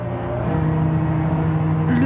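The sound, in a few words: engine of a WWII landing barge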